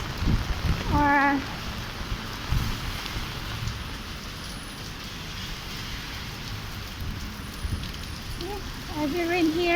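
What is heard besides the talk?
heavy rain in Macau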